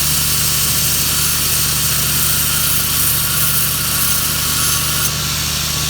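A grinding wheel running steadily as a knife bevel is ground at a blacksmith's forge, a continuous loud whirring hiss with a low motor hum beneath, unbroken throughout.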